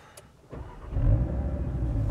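Audi RS Q3 with open exhaust flaps and start-stop disabled restarts: a brief starter whir, then the engine catches and settles into a loud, rumbling idle with no talking.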